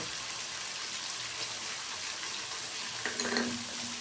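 Ginger sizzles in hot oil in a pan while a fish curry is made, a steady, moderate crackling fry with a brief burst of stirring near the end.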